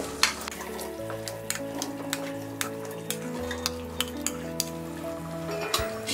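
Potatoes are stirred into fried masala in a pan for aloo matar curry, a spoon scraping and clinking against the metal in a steady rhythm over a soft background sizzle, close up, under quiet background music.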